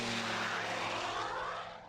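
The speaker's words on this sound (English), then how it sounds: "During the maiden flight event, the South African teens saw their plane fly for the first time." A small propeller airplane built by South African teenagers flies on its maiden flight, a steady droning engine roar passing fairly close and loud, easing slightly toward the end, no talk.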